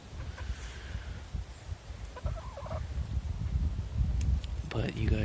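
Backyard chickens cluck in short bursts over steady outdoor noise, with someone talking nearby.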